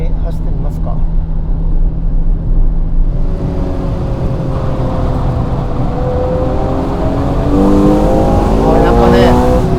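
A Ferrari Purosangue with hard damper settings and traction control off drives a winding road, its engine droning loudly from inside the cabin, then revving up with rising pitch as it accelerates; someone talks over it.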